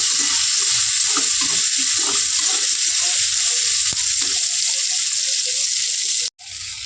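Loud, steady sizzling of tomatoes and vegetables frying in a hot pan for chicken curry gravy, a constant crackling hiss that runs throughout before briefly cutting out near the end.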